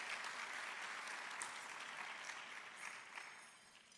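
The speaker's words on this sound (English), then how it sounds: "Please join me in giving him a round of applause." Audience applause for a city councilmember at a State of the City address in Fullerton, steady broadband clapping filling the room for about four seconds and tapering slightly near the end.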